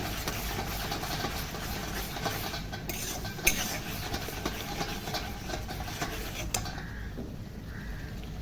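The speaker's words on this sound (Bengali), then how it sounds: "একটু নেড়ে নেবো আমি।" Ginger-garlic paste and cumin being stirred in a frying pan: a steady, close scraping rustle with a couple of sharp metallic clinks partway through, no voices.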